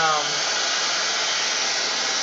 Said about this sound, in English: And then, also I have my dryer on high.